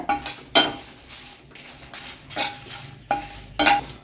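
Red chillies, curry leaves and tamarind dry-roasting in a pan, with repeated scraping and stirring strokes and soft clinks of a utensil against the metal, close and fairly loud, no voices.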